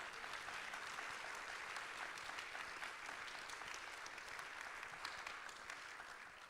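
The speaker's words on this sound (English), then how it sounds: "let's give these guys a round of applause." Audience applause for candidates at a public forum, a steady, even roar of many hands clapping from across a room, faint and continuous throughout before easing slightly at the end.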